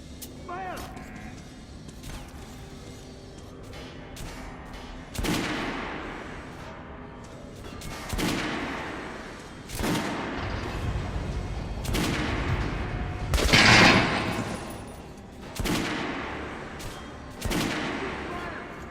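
Gunfire in the Metro Redux video game shooting range: a series of loud, sharp shots spaced every couple of seconds, each with a short echoing tail, under a steady low background.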